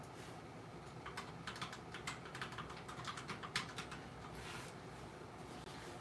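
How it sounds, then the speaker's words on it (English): Someone types on a computer keyboard during a live stream, producing quick, uneven bursts of soft clicking keystrokes that are close but quiet. A short pause falls in the middle before a few more taps, with no voices. "Here, I'll type it."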